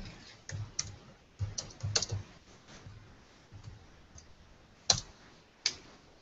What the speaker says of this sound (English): Oh, sounds like you're typing,